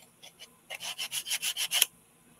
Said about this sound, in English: So I'm just sanding it down a little bit